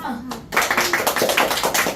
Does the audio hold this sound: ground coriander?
no